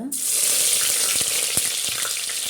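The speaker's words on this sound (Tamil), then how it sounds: "கடுகு பொட்டியாச்சு கர்லீஃப் போட்டுக்கோங்க" Curry leaves dropped into hot oil with popped mustard seeds for a fish kulambu, a sharp sudden burst of loud sizzling that settles into a steady hiss with a few pops, close and alone.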